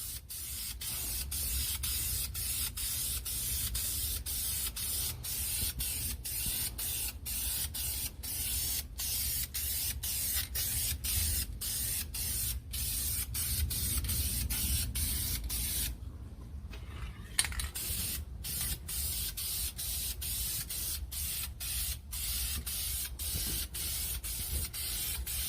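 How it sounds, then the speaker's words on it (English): Spray paint can laying down a light secondary coat, a steady soft hiss broken by rapid regular clicks and short gaps, fairly quiet and close. "I'm just going to throw like a little bit of a light coat just to kind of like a little secondary coat."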